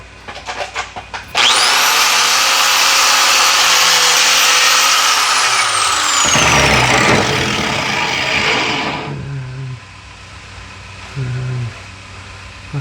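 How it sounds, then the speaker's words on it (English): A power tool with a wire wheel grinds a custom fabricated Corvair oil plug held in vise grips, a loud whining spin-up followed by harsh abrasive grinding that winds down, then quiet clanks. "I'm gonna wire wheel a little bit."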